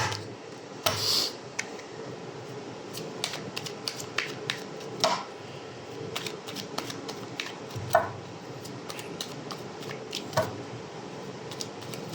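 An oracle card deck being shuffled and handled, with scattered soft riffles, taps and card snaps at close range, irregular and fairly quiet throughout, no talking.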